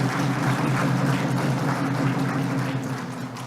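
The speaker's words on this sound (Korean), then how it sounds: "그들에게도 박수 한번 보내주시기 바랍니다." A political party audience gives sustained applause during a speech, a dense, steady wash of many hands clapping together from start to finish, fading slightly near the end.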